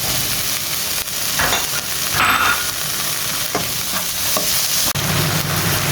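Small shrimp and tomato frying with ginger in a pan, a steady close sizzle with occasional stirring scrapes and clinks running throughout.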